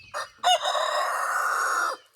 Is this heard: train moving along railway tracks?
no